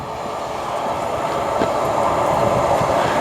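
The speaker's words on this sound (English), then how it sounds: "this is the train to Manchester, this one" A train rumbles steadily at a station platform, its low mechanical drone swelling slightly louder toward the end, with faint clanks and no voices.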